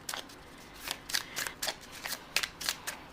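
Tarot cards shuffled and drawn during an Aries love reading: a quick run of crisp papery riffles and slaps, about a dozen short bursts, close and fairly quiet, with no talking.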